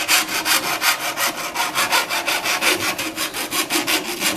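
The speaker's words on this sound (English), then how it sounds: "Now that I've chopped off the end, I'm just going to file it" A hand file works the freshly cut end of a metal pipe on a 1910s pop gun being restored, giving a loud, close, rhythmic rasping of quick regular strokes with no talking.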